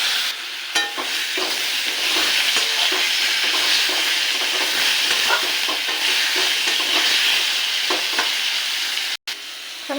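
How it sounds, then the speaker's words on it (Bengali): Potatoes frying in oil in a kadai after bay leaf and whole cumin tempering, a loud continuous close sizzle with scattered pops and stirring clicks, briefly cutting out near the end. "আলুটাকে দিয়ে ভেজে নেব"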